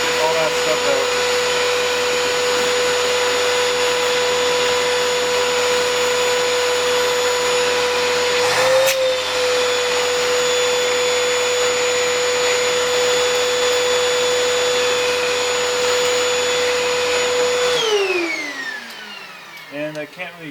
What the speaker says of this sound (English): So I'm gonna use the vacuum again.